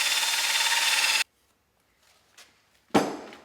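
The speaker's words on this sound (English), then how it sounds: "I'm just going to go in with the wire wheeler and clean it" A wire wheel scrubs plasma-cut residue and corrosion from a Polaris Ranger front wheel bearing housing, a loud, dense abrasive whir lasting about a second before cutting off, followed by a short burst starting up again near the end.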